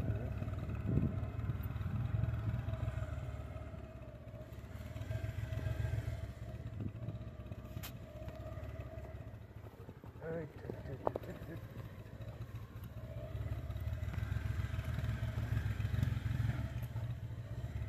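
A motorcycle engine drones steadily under load while climbing uphill on a mountain road in eastern Nepal, low and close, rising and falling slightly as it labors along, with occasional clatter.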